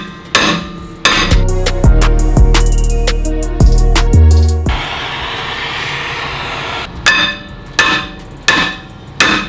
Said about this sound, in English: We're resulting to the old clang and bang with the hammer, trying to get the rotor off